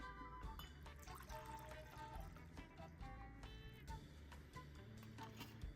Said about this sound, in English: All right, then we're gonna pour it to our martini glass.